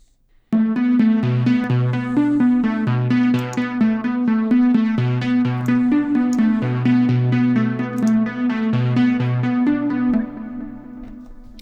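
A sustained chord from a Vital software synth patch, warm and harmonically rich, held for about ten seconds and washed in a long, large reverb tail, played alone with no voices.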